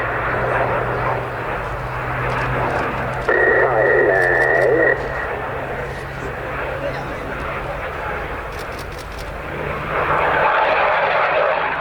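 Eurofighter Typhoon and Spitfire flying together at the RAF Cosford airshow, a steady distant engine roar rolling on throughout while an announcer talks over a public-address system.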